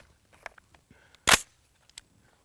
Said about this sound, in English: we're going straight up 308 armor piercing incendiary out of this Adams Arms AR-10